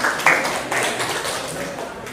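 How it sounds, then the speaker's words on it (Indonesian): A class of students at a high school applauds, with a few sharp claps up front and then a dense wash of clapping that stays fairly even throughout. "Kasih tepuk tangan"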